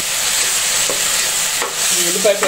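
Onion paste frying in a pan with ginger and green chilies, a steady close sizzle with a few scraping stirs near the end.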